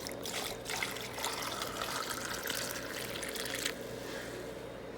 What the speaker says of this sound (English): I'm going to take water and put it in the bottom.